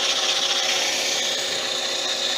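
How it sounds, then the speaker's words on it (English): An antler pen blank spinning on a lathe is sanded with 180 grit sandpaper, making a steady, close, loud abrasive rubbing hiss that runs without a break and with no talking. "I'm going to sand it with 180."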